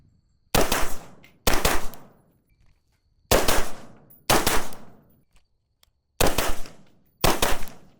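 Rifle gunfire through a Steiner T6Xi low-power variable optic, six loud sharp shots fired in pairs with pauses between them, each crack ringing out briefly, no talking.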